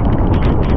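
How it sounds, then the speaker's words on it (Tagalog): Strong typhoon wind and rain roar along the coast at Bucana, a loud, continuous, buffeting rush with gusty swells battering the microphone and no voices. "Palakas na palakas yung ano, hangin tsaka ulan."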